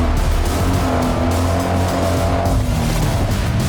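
Supercar wheelspin with traction control off, a loud continuous engine roar with sustained droning revs and tire noise throughout, close by.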